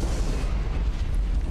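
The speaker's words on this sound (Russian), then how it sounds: "Вот это ядерные взрывы." Nuclear explosions in the video game Suicide Guy, a heavy rumbling boom with a deep sustained roar, loud and continuous.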